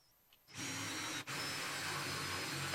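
Hand drill with a 1.5 inch bit boring through pine: after a quiet moment the motor spins up into a loud, steady whine, briefly dips once, then grinds on evenly through the wood.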